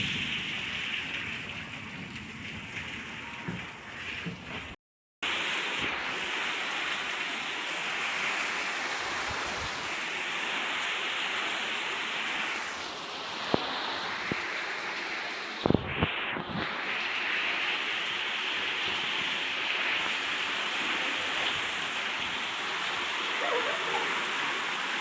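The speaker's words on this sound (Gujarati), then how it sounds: "જોઈ શકો છો મિત્રો ફૂલ પવનની સાથે વરસાદ" Heavy rain driven by strong wind pours down continuously, a dense roaring hiss that briefly cuts out and returns, with faint gusts and scattered knocks on a surface.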